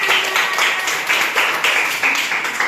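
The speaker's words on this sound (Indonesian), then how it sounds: "kasih tepuk tangan untuk Karina" A classroom of students claps for a classmate, a dense, continuous patter of many hands at close range, brief and alone.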